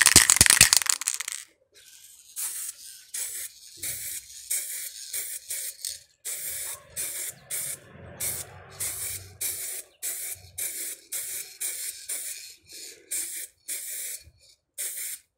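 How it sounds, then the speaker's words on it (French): An aerosol can of spray paint is rattled loudly at close range, then sprayed onto a rusty part in a rapid series of short, sharp hissing bursts separated by brief pauses. "vous secouez votre bombe de façon à éviter que la peinture fasse un dépôt au fond"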